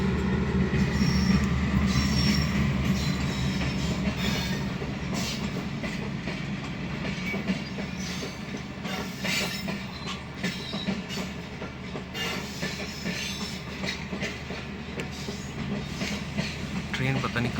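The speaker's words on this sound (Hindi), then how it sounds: "आगे से फाटक जो है बंद है और ट्रेन आ रही है।" At night a train rolls slowly past a closed railway level crossing, its wheels clattering steadily with squealing metal and rumble throughout, close and loud, while someone talks over it.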